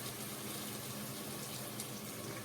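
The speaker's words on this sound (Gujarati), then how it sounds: "ઊંધિયાને ચડવા માટે થોડું પાણી" A continuous soft rush of water flowing into a pot of undhiyu, steady and even throughout, fairly quiet and close.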